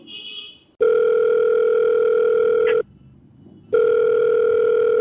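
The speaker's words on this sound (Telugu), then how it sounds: "వేరే కాల్ చేస్తాను" A telephone dial tone sounds while a call is being placed: a steady, loud tone that breaks off briefly and then resumes, with a short burst of other sound just before it starts.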